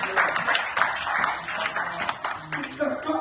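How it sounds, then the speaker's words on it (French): Applause and clapping from a congregation during a French-language church service, a steady crowd clatter running throughout with voices mixed in. "Est-ce qu'on peut acclamer pour la gloire de Dieu?"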